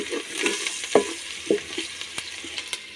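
Salted onions sizzle steadily in a pot over a village cooking fire while a spoon stirs them, soft scraping knocks recurring over the continuous hissing fry.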